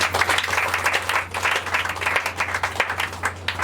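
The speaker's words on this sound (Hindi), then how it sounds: "तालियां हो जाए।" Hands clap together in a congregation during a Hindi Christian sermon, a lively burst of many claps with audible individual strikes over a steady low electrical hum, lasting a few seconds.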